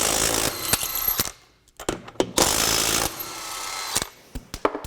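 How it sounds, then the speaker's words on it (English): A Craftsman V20 brushless 1/2-inch drive impact wrench rattles loudly in rapid hammering bursts while removing lug nuts, with short pauses and sharp clicks between runs. "it definitely did seem to pull the lug nuts off a little bit faster"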